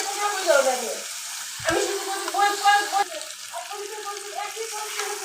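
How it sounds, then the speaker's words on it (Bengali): Close sizzling of potatoes and dried fish frying in a pan, with stirring scrapes and clinks at irregular intervals. "আলুটা দিয়ে শুটকিটা দিয়ে খুব ভালোভাবে কষিয়ে নিচ্ছি"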